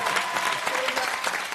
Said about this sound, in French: S'il vous plaît, le plus fort que ça, les applaudissements